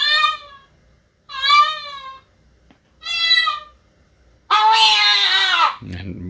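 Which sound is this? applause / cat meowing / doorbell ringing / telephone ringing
cat meowing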